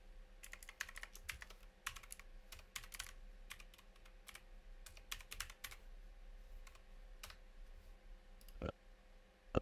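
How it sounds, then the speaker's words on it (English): Rapid, uneven bursts of key clicks as an email and password are typed on a computer keyboard, close up and fairly quiet over a low steady hum, ending with one louder key tap. "So I'm just gonna type in my email password."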